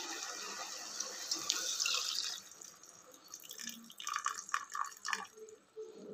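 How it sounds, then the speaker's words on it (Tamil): Tamarind water poured into a pot of murungai keerai sambar, a splashing liquid pour that starts strong, then gives way to bubbling and gurgling, fairly close and moderately quiet. "இப்போ நம்ம புளி தண்ணி ஊற்றிக்கலாம்."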